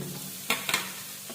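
Chopped onions dropped into hot oil with golden-browned ginger and garlic, a soft background sizzle broken by two quick bursts of hissing as pieces hit the pan, close and brief.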